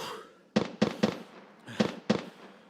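Five sharp sniper rifle shots ring out in a PvP video game, loud and close, arriving in two uneven clusters of three and two with short reverberant tails.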